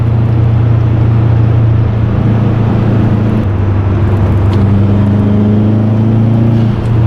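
Subaru WRX Hawkeye with a built engine pulling through turns on back roads, heard from inside as a loud, continuous low drone that rises and falls slightly with the throttle.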